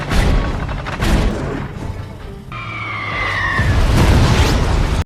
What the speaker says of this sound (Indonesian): menembakkan meriam ke arah kapal itu sebagai pemanasan. Seketika kapal itu pun hancur lebur.